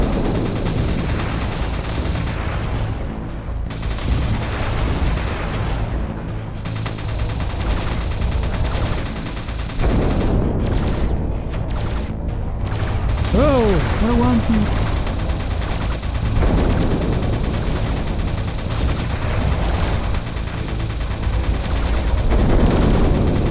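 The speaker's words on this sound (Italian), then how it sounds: "L'esplosione l'avrei fatta un pochetto più grossa, eh?" Explosions and rapid gunfire in the shooter game Alien Destroyer on PS4, dense bursts and booms continuing loudly throughout with a few brief laser-like sweeps, and someone talking intermittently over the action.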